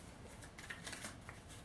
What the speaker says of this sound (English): I'm still shuffling. I have a few more cards that I'm waiting for to come out on the table here